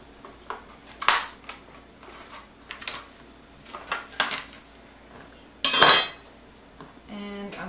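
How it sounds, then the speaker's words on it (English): A knife chops sage leaves on a cutting board in a kitchen, giving scattered sharp knocks and clinks of blade on board at irregular spacing, with a brief louder scraping burst near the end. "And I'm going to chop them."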